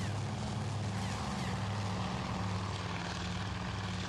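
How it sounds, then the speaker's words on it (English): Low-flying TBD torpedo bombers in the naval strategy game Task Force Admiral, in three groups of three, give a steady, loud propeller-engine drone with a constant low hum and no talking. "the formations like this that are flying low in 3 groups of 3, I'm assuming are torpedo bombers"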